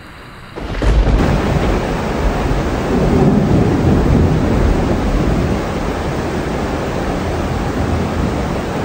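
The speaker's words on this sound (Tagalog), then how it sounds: "Umulan ng malakas at sinasabayan ito ng malalakas na kulog at kidlat." Heavy rain pours down in a dense, roaring wash at an abandoned school in Nueva Ecija, with a deep rumble of thunder swelling early on, loud and close.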